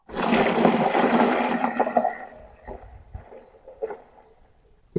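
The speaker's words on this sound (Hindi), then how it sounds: "इस तरीके से पानी डालेंगे चूने पर" Water is poured from above onto lime in a bucket while making Bordeaux mixture, a loud rushing splash for about two seconds that fades into quieter trickles and a few small knocks.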